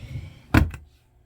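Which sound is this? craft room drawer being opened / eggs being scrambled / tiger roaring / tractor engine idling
craft room drawer being opened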